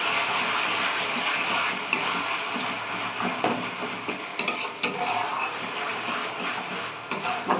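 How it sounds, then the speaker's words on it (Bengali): A spoon stirs salt, turmeric and sugar into a spice mixture in a pan for green chilli chicken kosha. It makes continuous scraping and stirring over a faint sizzle, with occasional light knocks against the pan. "লবণ দিয়ে দিচ্ছি, হলুদ, চামচ চিনি, ভালো করে মশলাটার সঙ্গে মিশিয়ে নেব।"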